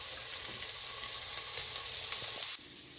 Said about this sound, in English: You need to hear that sizzle